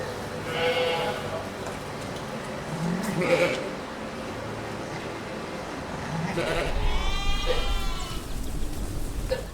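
Several sheep on an Ontario farm flock of about 1,000 to 1,200 bleat at intervals, some near and some farther off, over a low rumble of outdoor background noise.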